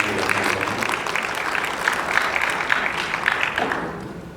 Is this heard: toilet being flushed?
no